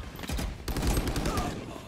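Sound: gunfire in a video game

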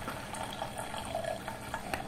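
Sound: water bubbling as it is sucked through a hollowfiber filter housing

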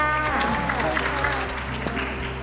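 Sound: crowd cheering and applauding

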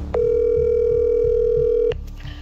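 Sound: telephone dialing tones

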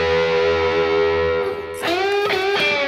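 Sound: electric guitar lick played with faux slide whammy bar technique

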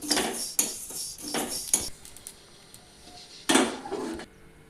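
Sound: dry-roasting shahjeera (black cumin) spices in a pan

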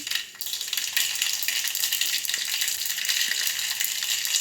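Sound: fenugreek, mustard and cumin seeds sizzling in hot oil

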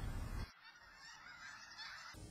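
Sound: snow geese honking in the Skagit River Valley

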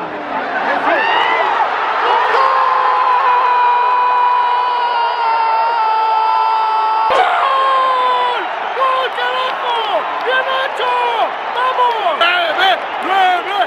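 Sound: stadium crowd of América fans cheering a goal

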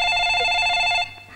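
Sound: telephone ringing

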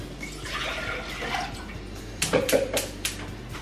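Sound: water being poured into a cooking pot

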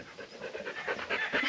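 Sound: puppy panting

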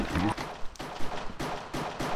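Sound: pistol gunshot in Minecraft Hypixel MC:GO video game

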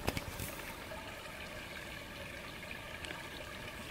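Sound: water in the Dutch wilderness

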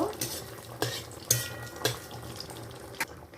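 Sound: whole cumin seeds tempering, stirred in hot oil

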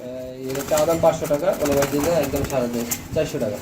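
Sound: local Gulla pigeons cooing

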